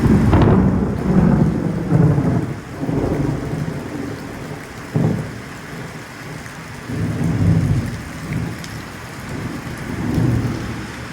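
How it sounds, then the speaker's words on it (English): Texas thunderstorm with steady rain and repeated rolling rumbles of thunder, heavy low booms swelling and fading over the rainfall, no voices. "Oh, that's a good little lightning flash. Might get a little boom on that one."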